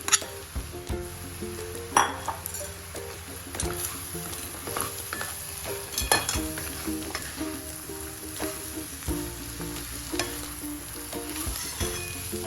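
Mashed potato is stirred into a frying pan with green chilli and turmeric for a masala dosa filling, giving a steady sizzle under repeated metal clinks and scrapes of a spoon against the pan, close and busy, with no voices.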